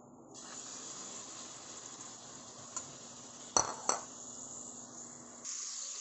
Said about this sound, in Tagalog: dito rin sa mantika niya, dito na natin susunod natin gagawin, igigisa natin tong ating giniling